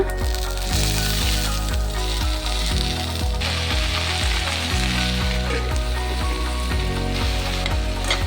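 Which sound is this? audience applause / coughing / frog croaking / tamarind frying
tamarind frying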